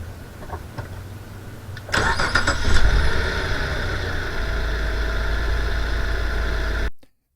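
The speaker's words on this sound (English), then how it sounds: "And here I'm gonna start my car, and you're gonna notice that it will start on the first try." A car with a dead battery, boosted by a Gooloo jump starter, cranks briefly and fires on the first try, then settles into a steady, fairly loud idle before the sound cuts off abruptly.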